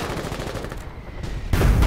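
Rapid bursts of gunfire from a Foxhole war game battle, a fast run of loud repeated shots with a heavier blast near the end, set against steady battlefield noise and no speech.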